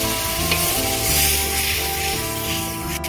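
Water hits a hot pan of fish kalia gravy, setting off a loud, continuous hissing sizzle up close that stays strong for the whole few seconds, with a low steady hum beneath.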